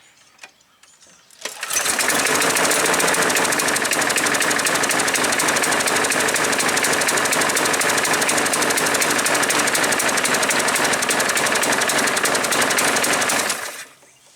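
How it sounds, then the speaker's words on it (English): A small Craftsman gasoline engine with a sticking automatic choke flooding it starts up and runs loud and steady with a rough, rapid sputtering chug for over ten seconds, then cuts off. "the automatic choke is sticking on and it's flooding the engine out"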